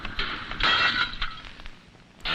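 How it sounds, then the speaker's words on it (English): A cartoon sound effect of breaking glass that sounds more like a dropped pot, from a 1958 animated short: several sharp clattering crashes, loud and close, with no voices. "It didn't sound like a broken glass. It sounded like someone dropped a pot."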